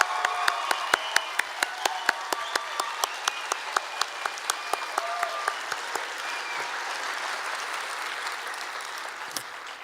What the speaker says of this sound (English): Ladies and gentlemen, please join me in applauding these individuals for their service to our country.